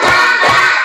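Children clapping together in a short burst of two quick rounds of hand claps, dense and close in a classroom, with no talking.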